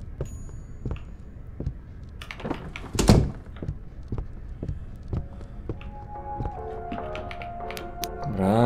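In the Dead Signal video game, a door shuts with one heavy thunk among scattered soft taps and clicks, followed by a brief electronic tone near the end.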